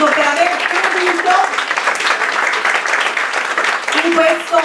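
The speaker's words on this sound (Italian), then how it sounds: "al quale farei un applauso" Applause from the audience at an Italian poetry book presentation for the publisher, steady clapping throughout with talk layered over it.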